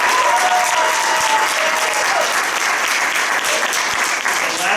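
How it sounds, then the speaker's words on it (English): An audience at a community theater awards night applauds the lights and sound crew with dense, sustained clapping that fills the whole stretch. "How about a round of applause for them?"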